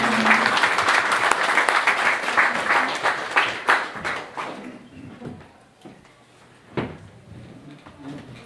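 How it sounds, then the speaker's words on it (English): Audience applause for boxer Charlie Nash at a Derry boxing press conference: loud dense clapping for about four seconds, then thinning into scattered claps and fading out. "Give a big round of applause and a big cheer for the legendary Charlie Nash"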